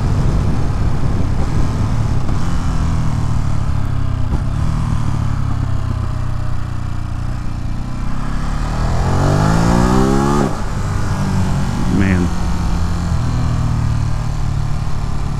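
A 2022 Ducati Monster Plus motorcycle on Pirelli Rosso 3 tyres, heard close with a steady engine drone, then a sharp rising rev that climbs and drops back, with a brief throttle blip after it.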